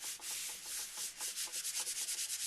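Rapid rhythmic rubbing on a handmade paper card to press it closed, a close, soft scratchy swishing repeated quickly over and over with no talk.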